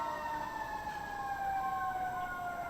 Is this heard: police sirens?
yes